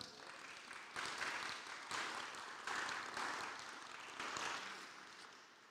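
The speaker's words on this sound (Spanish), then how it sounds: "Dale un aplauso a Dios." A church congregation claps during a sermon in several faint, uneven waves of applause that swell and fade, with no voices over them.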